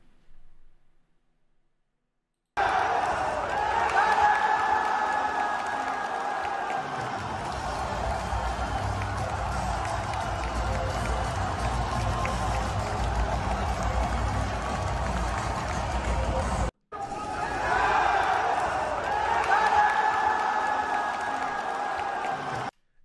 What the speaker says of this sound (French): La foule est incroyable, bien évidemment.